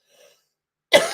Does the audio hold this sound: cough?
yes